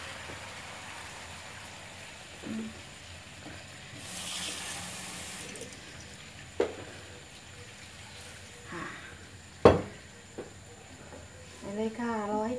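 Water poured into a cooking pot while making pork-ball noodle gravy, a soft splashing stream under quiet kitchen background, with a few clinks and knocks of utensils.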